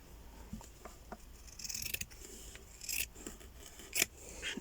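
Scissors snip through a piece of fabric for a stitched journal page, a run of quiet close rasping cuts with a few sharper snips near the end.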